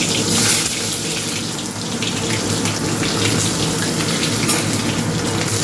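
Dry red chillies and cumin seeds crackling in hot oil with onions going in, a loud, steady broadband sizzle close by that runs unbroken throughout, with no voices.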